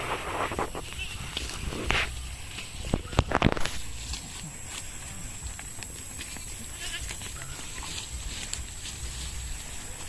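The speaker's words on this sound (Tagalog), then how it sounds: "may kasama rin kami dito mga kambing" Goats bleat now and then at a distance amid a farmyard background with some footsteps and rustling; a person talks briefly.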